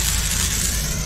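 Chitoi pitha batter sizzles in a hot, lightly oiled kadai, giving a steady close hiss throughout with a small bump near the end.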